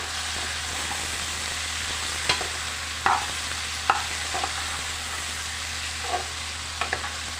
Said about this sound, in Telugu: ఇందులోకి వంకాయ ముక్కలు వేసుకున్నాము అలానే కొంచెం సాల్ట్ అండి ఫ్రై చేద్దాం